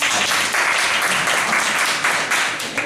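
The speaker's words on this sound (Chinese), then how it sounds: "我们先热烈掌声欢迎今天两位" An audience applauds to welcome two guests at a philosophy talk event, a dense, sustained round of clapping that swells and wavers slightly in loudness without any speech over it.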